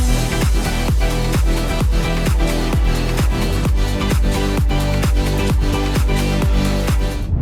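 Layered progressive house synth loops with a punchy kick on a steady beat, pumping sustained chords and bright upper layers, loud and continuous.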